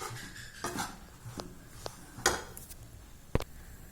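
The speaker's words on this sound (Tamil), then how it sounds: "நம்ம மெதுவாக கட்டி போடாமல் கிண்ட வேண்டியதுதான்." Powdered biscuit sweet being stirred in a pan over a low flame, heard as soft scraping and rubbing with a few sharper clinks of the spoon against the metal, close and fairly quiet.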